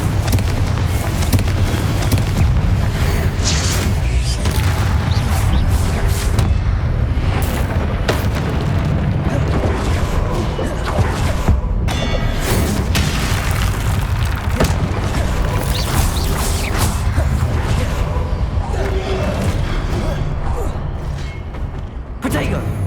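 Confringo blasting-spell explosions in the video game Hogwarts Legacy: a dense run of booming blasts and crashes over a steady combat din, loud and continuous throughout.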